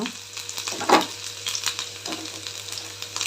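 Crushed ginger sizzles in hot oil in a pan for pesarattu, a steady close frying hiss with a few stirring scrapes and no talking.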